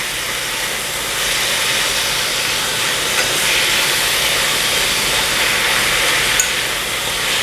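Gochujang pork stir-frying in a hot pan with rice syrup being quickly mixed in, a continuous close sizzling hiss with faint scraping, steady throughout.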